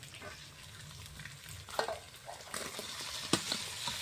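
Tomatoes sautéing with ginger garlic paste in a pan for a duck curry, a steady soft sizzle with scattered stirring scrapes and clicks, moderately close and without talk.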